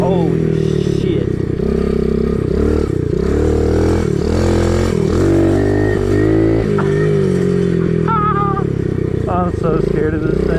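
Kawasaki KLX110 dirt bike ripping laps, its small engine revving up and down steadily and loudly up close throughout, with a rider talking over it.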